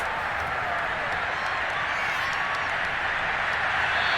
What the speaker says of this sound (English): They're going to give out a little applause on that play.